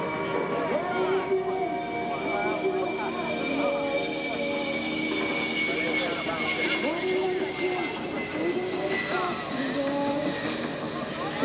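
A Grumman F-14 Tomcat jet fighter flying at the 1996 Cleveland National Air Show, its engines giving a loud, sustained roar and whine that shifts in pitch as it passes, with an announcer talking over it.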